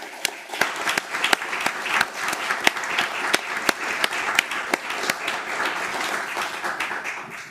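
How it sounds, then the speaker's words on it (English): A council meeting audience gives a round of applause, a steady patter of many hands with a few sharp, louder individual claps standing out close by, continuing for several seconds without speech. "can we give one more round of applause for Gemma and Alex and Clara"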